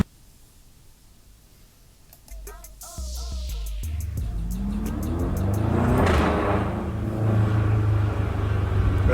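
Audi RS6 engine accelerating hard: a quiet start, then a loud rising roar builds and holds strong, heard close from inside the car and swelling steadily to the end.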